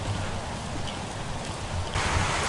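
Steady rain falls outside a rural Georgia farmhouse, a dense continuous hiss of drops that swells louder near the end, with no voices.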